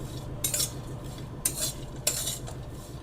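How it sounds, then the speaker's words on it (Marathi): Almond pieces roast in ghee while a spoon stirs them, with a few sharp scrapes and clinks against the pan over a soft, low sizzle, close and fairly quiet. "हे बदामाचे तुकडे करून जर चांगल्या तुपामध्ये भाजले तर ते आतूनही चांगले छान खरपूस होतात"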